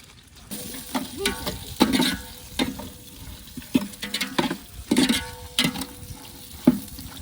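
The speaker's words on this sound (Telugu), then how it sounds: "ఈ మాత్రం ఆనియన్స్ మొత్తం గోల్డెన్ బ్రౌన్ కలర్ వచ్చేంత వరకు వేయించుకోవాలి" Onions and bay leaves crackle and sizzle in hot oil while a spoon scrapes and stirs them in repeated bursts, close and fairly loud, with no talking.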